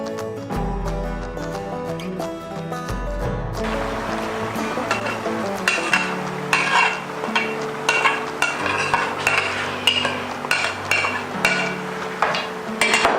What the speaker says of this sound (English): Stir them together after adding.